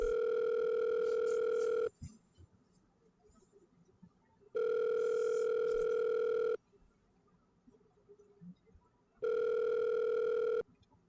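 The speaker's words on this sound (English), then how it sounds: "It doesn't take long for me to bring up Monica's number and to hit call" A phone call's ringback tone sounds in three long steady bursts separated by quiet pauses.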